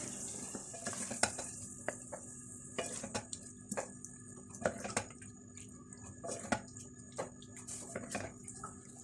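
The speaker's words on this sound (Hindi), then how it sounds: "अब मैं इसका चूल्हा बंद करती हूँ और हम इसको डिश आउट करते हैं" Crunchy potato and capsicum sabzi is scraped and spooned out of the pan, giving soft irregular clinks and scrapes of a utensil against metal over a faint residual sizzle.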